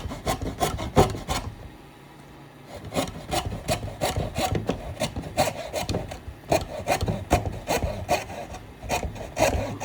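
A hand blade saws into an unclamped wooden board, making rapid, rhythmic back-and-forth rasping strokes, close and loud, with a short pause around the two-second mark before the sawing resumes.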